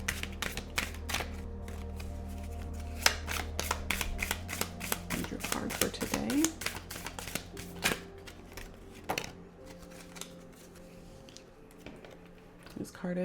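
Mudra cards are shuffled with a brisk series of sharp flicks and slaps, then drawn with a few slower taps while a quiet voice murmurs softly in the middle.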